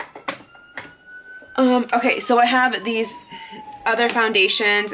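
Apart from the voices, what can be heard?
emergency vehicle siren outside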